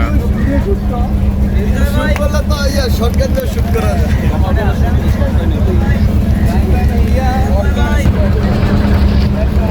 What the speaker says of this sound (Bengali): আমাদের ট্রলার ছেড়ে দিয়েছে এখন আমরা চলছি ওয়াচ টাওয়ারের দিকে